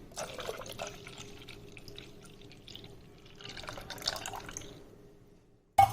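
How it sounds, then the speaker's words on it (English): Buttermilk poured into a cooking vessel for dahi kadi, soft intermittent liquid splashing and trickling close by, fading to near silence before a sharp knock at the end. "Now we will add buttermilk to it."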